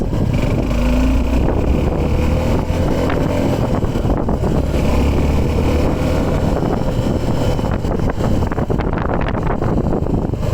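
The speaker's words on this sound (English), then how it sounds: "let me just rev it again, and I'll show how the initial torque and the mid-range is" A Suzuki V-Strom 250 SX 2023 motorcycle revving, its engine droning loudly and continuously under heavy wind buffeting across the microphone, rising in pitch toward the end.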